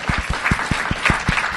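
Audience applause at a live podcast taping honoring producer Ken Plume; a short burst of distinct, fairly sparse claps with crisp individual hits, close and clear.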